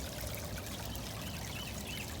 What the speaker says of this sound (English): this water here is water out of a garden hose